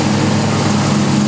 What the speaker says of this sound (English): That's a lawnmower, buddies.